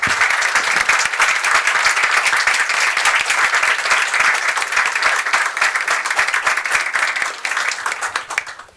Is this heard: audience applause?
yes